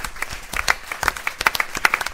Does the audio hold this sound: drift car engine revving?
no